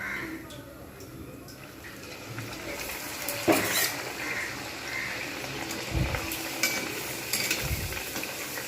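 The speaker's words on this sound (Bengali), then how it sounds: "এপিট ওপিট করে লালচে লালচে করে আমি ভেজে নেবো" Aloo puri fry in hot oil with a soft continuous sizzle, while spatula scrapes and clinks against the pan come and go and a couple of low thumps land near the end.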